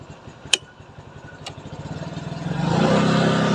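A motorcycle CVT engine idling with a steady low putter, a couple of sharp clicks, then the revs climb smoothly into a louder, sustained drone as the throttle opens to spin the rear wheel.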